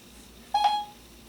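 A short Siri activation beep sounds on an iPhone running iOS 7, a single clean electronic tone standing out against a quiet background.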